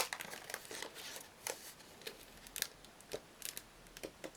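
Scrapbooking packaging is handled and opened close up, with crisp plastic and paper crinkles and rustles coming in irregular bursts, some sharper snips and crackles among them, and no talking.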